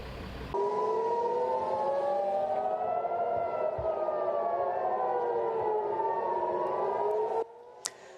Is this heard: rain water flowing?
no